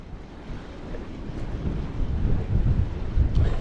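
Steady wind gusting across open water at a bass fishing spot with boulders, weed and tidal run, a rough broadband rush that swells louder toward the end, with no talking.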